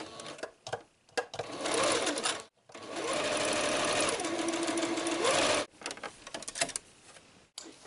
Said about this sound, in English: Sew a 1-inch line down all 4 seams, and be sure to back tack at the ends of the fabric.